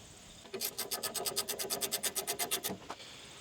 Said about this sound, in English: And then we're going to put the nut back on.